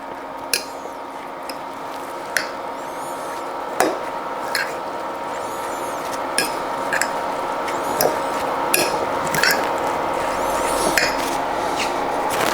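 Fresh Mexican salsa stirred in a bowl, with a spoon rasping and scraping steadily and sharp clinks against the bowl every second or two, close and fairly loud, no voices.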